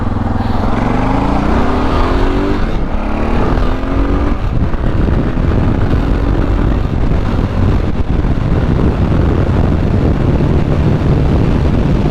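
Loud, steady wind buffeting a microphone on a motorcycle, with the engine droning underneath throughout, a constant roar at highway speed.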